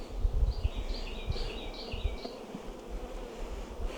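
Honey bees hum steadily around an open Bug Farmer 10-frame hive during an apiary inspection, a continuous close buzz with higher wingbeat tones drifting in and out, no voices.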